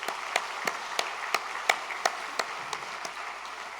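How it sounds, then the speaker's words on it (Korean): A church congregation at a Sunday afternoon praise service claps in unison, a dozen or so evenly spaced, moderately quiet claps in a steady rhythm with no other sound. "박수 한번 할까요?"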